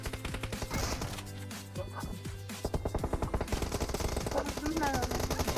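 Rapid bursts of automatic gunfire crack through a PUBG Mobile match, in dense near rattling volleys with a brief lull midway, while a player talks over them.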